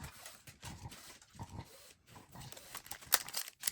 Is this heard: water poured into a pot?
no